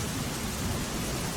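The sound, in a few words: rain in Somnath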